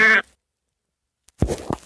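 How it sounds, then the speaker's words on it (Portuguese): A single short sheep bleat rings out at the start, followed by silence and then a brief burst of other sound near the end. "Ovelhinha."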